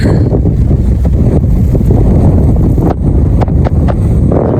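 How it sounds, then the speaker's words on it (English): Strong wind buffets the microphone in a loud, continuous roar with gusty surges, no speech heard. "It's a little bit windy now."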